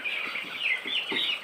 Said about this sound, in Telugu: కోడి పిల్లలు చూడండి, షెడ్ మొత్తంలో చూడండి.